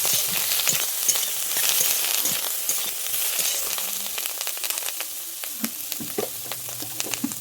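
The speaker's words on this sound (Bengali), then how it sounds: "দিয়ে আমি এটাকে একটু নেড়ে নেব" A pan of fish roe chutney with turmeric and salt is stirred, giving a steady loud sizzle of frying under scattered scraping clicks of the spoon, close up and continuous throughout, with no speech.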